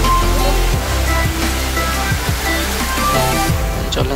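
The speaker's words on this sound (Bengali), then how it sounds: "দেখেন আপনারা ঝর্ণাটা কত সুন্দর।" A waterfall in the rainy season roars loud and close as a dense, continuous rush of falling water, with no break or letup.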